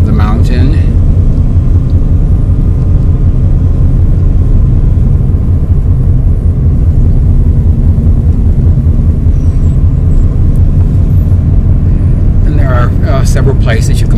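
A car climbs the winding road up Mount Greylock, its engine and tyre rumble loud and continuous throughout, with a little wind noise near the start and end.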